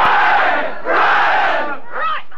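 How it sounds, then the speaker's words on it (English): A large Arab-speaking crowd of extras for a film scene roars out loud shouts in unison, two long swelling bursts followed by a shorter one, close and dense. "When we were doing those crowd scenes where they all had to shout out, this is an Arab-speaking crowd"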